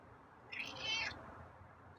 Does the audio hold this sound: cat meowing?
yes